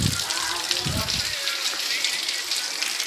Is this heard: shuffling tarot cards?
no